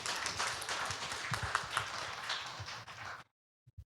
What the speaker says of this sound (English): Yeah, applaud for them, but not for me.